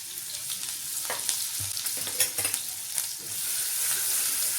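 Green chili, ginger, asafoetida and turmeric sautéing in oil with mustard seeds and cumin, a bright steady sizzle with intermittent spoon-stirring knocks, close and without voices.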